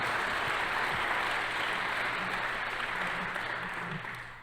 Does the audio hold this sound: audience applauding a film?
yes